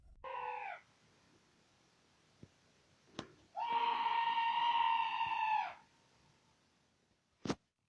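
Shrill screams ring out in the dark near a bridge at night: a short cry, then a longer, louder wailing scream of about two seconds, with a sharp knock between them and another brief burst at the end.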